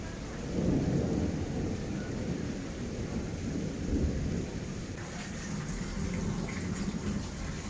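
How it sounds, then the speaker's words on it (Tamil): Thunder rolling through a rainstorm, a deep low rumble that swells and fades over steady falling rain, with no voices present. "திரும்பவும் இடி சவுண்டு வருது பாருங்கள்"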